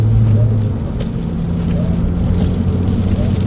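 A Porsche 911 (996) Turbo engine rumbles steadily and close during a heel-toe downshift, a loud, even low drone with no distinct blip standing out.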